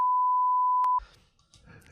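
A loud, steady censor beep holds for about a second, then cuts off abruptly into faint background noise.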